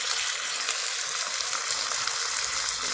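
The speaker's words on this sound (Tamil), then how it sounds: "இப்போ இந்த காயை கொட்டிட்டு நல்லா கிளறி கொடுத்துடலாம்." Cluster beans stir-frying with onion in a pan give a steady, dense hiss of sizzling that stays even and close throughout, with no voices.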